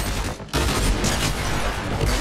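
Dense, continuous video-game gunfire blasting at a brick wall, loud and close, with a brief dip before the barrage resumes.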